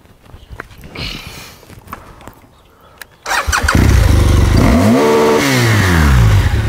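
A motorcycle engine cranks and fires up loudly after some quiet shuffling and clatter, then idles and revs steadily close by.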